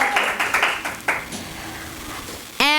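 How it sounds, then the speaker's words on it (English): Several hands clap in a short, thinning round for a speaker at an online education event, a few sharp claps fading out within a couple of seconds before a brief tone at the end. "One more round of applause for Dr"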